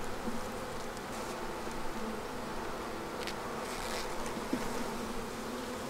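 A thick, continuous drone of honey bees fills the air around an opened beehive at its first spring inspection, close and steady with faint scraping and tapping of hive frames.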